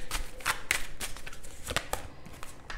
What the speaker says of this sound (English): Let's shuffle it again.